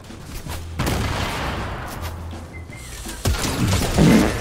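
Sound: gunfire from weapons in Fortnite video game

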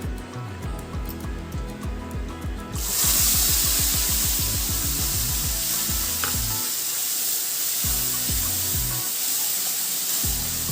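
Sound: frying asafoetida and spices in mustard oil, stirring

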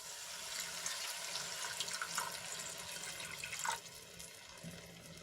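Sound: pouring a glass of water into curry masala

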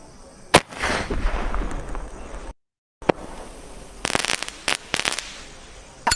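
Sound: big sky shot firecracker exploding

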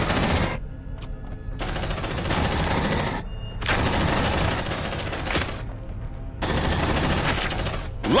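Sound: marines' gunfire in video game Aliens Dark Descent

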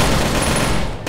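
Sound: gunshot in the video game Rainbow Six: Shadow Vanguard

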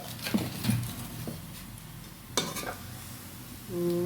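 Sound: stirring and sautéing chicken curry in pan

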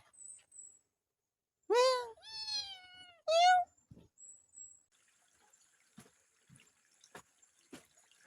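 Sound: cat meowing

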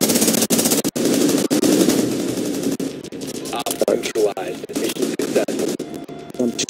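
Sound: shotgun gunfire in video game Rainbow Six Siege

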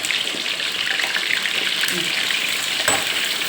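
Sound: sea bass pieces frying in a pan

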